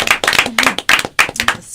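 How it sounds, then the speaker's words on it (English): A short burst of clapping from a group of people at a high school sports event, close and fairly loud, with uneven rhythmic claps and a brief whoop mixed in. "How about a round of applause for Philly B running things?"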